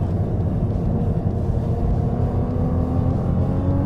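A Ferrari 296 GTB accelerates on a race circuit, a dense, steady engine roar heard from inside the car, loud and continuous with a faintly rising pitch and no talking.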